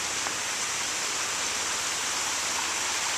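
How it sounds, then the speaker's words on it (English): Creek running below wooden stairs on a walking path, a steady close rushing of water with no talk over it. "where you can see the creek"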